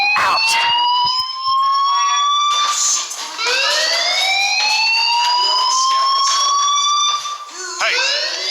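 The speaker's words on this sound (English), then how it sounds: "Hey, do you hear that fire alarm?" Fire alarm ringing in the video game Life is Strange: a loud, continuous electronic ringing with rising, wavering tones that fills the whole stretch, alone with no speech.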